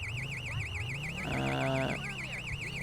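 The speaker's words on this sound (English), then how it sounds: "Okay, there's an alarm going off." Car alarm wailing in GTA 5, a steady high warbling siren that rises and falls continuously at moderate distance under low game ambience, with a brief horn-like blare in the middle.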